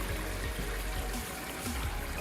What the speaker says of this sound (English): hang out now with the views and the sounds of this waterfall here